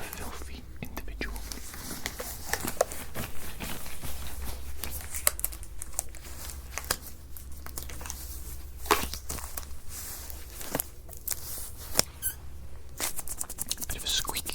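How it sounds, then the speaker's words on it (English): Latex gloves rubbing and crinkling up close in a whispered doctor-roleplay setting, with soft scratchy, rustling handling sounds throughout under steady whispering. "Bit of a squeaky glove there."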